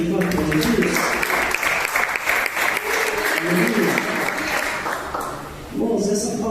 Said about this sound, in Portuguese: Glorifica a Deus com palmas de glória para Jesus.